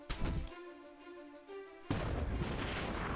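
Heavy cannon fire from tanks in the strategy video game Battle Nations, a dense booming burst that breaks in and rumbles on loudly to the end after a quieter stretch of game tones.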